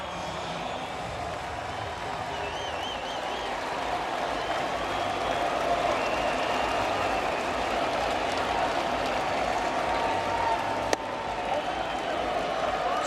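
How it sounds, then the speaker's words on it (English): Crowd roar swells and holds through a Major League Baseball stadium during a Phillies at Tigers game, a broad wash of cheering with a faint whistle and a short sharp click near the end. "Here comes the crowd."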